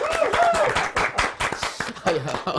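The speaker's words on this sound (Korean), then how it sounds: "얼떨결에 박수를 치시는 후보자가 한 분 나와 계시고요" A candidate and others in a broadcast studio before a general election debate clap in short sharp bursts, close and uneven, mixed with exclamations from people present.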